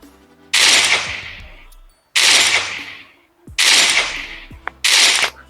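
Gunfire from a mobile video game plays through earbuds in four separate loud bursts, each a sharp rattling volley that decays before a pause, with no talking.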